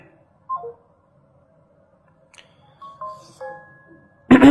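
Several short electronic telephone tones beep at intervals in near silence during a live broadcast, ending abruptly in a burst of louder sound.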